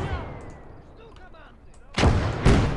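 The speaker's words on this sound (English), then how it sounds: "We've got mortars out there." Mortar rounds fire in the Close Combat war game, with two loud, close blasts a half second apart following a quieter stretch with a faint voice underneath.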